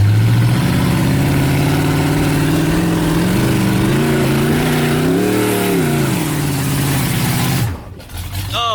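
A vehicle's engine revs loud and close, climbing and wavering as it takes a running start up a dirt hill, then cuts abruptly near the end to quieter rustling.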